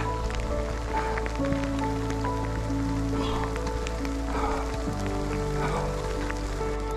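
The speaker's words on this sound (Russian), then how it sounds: "Просто дождь. Еще градики летят." Steady rain mixed with small hailstones falls in the Tien Shan mountains of Kyrgyzstan, a dense continuous patter close by with occasional sharper drips and ticks, and no talking.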